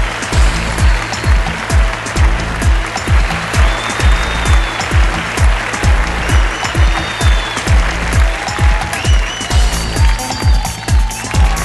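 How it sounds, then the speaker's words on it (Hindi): An audience at a television awards celebration applauds loudly and steadily in a rhythmic beat, the dense clapping continuing without a break and no voices on top. "जोरदार तालियों से स्वागत कीजिए नीलू वाघेला का।"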